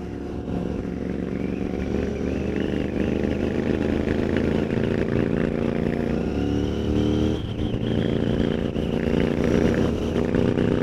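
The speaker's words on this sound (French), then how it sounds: "vous devez entendre le son de la moto" Royal Enfield Continental GT 650 motorcycle fitted with a Watsonian sidecar, its parallel-twin engine running steadily and loud throughout with a continuous throbbing rumble and a slight shift in pitch partway through as the throttle changes.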